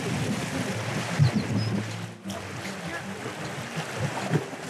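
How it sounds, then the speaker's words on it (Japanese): Spray and rushing river water on a boat ride down the Arakawa river at Nagatoro, Chichibu, a steady broadband wash with a few brief splashes and faint voices underneath. "飛ぶ飛ぶ飛ぶ、 水しぶきが飛ぶ。"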